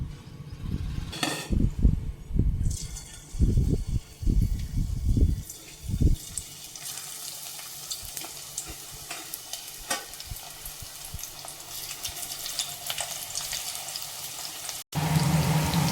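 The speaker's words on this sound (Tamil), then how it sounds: "இப்போ எண்ணெய் காஞ்சிட்ருக்கு, இதை நம்ம போட்டு பொரித்து எடுத்துடலாம்." Cauliflower pieces dropped into hot oil for deep frying, seasoned with Kashmiri chilli, with sizzling bursts and stirring in the first six seconds, then a steady close frying hiss and crackle.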